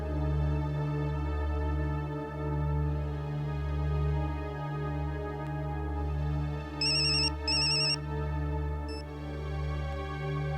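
A telephone ringtone plays continuously at moderate volume, a droning melodic tone, with a few brief higher beeps chiming in near the end.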